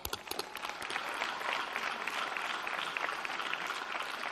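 Graduates applaud at a community college commencement ceremony, a continuous even wash of many hands clapping heard from across a large hall, moderately faint and unbroken throughout.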